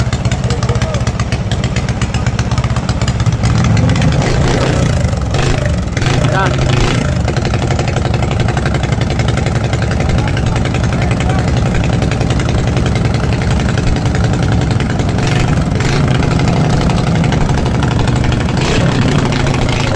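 Powerful racing boat engines roar continuously and loudly at a boat race in San Nicolas, Batangas, a dense unbroken drone with a voice talking over it.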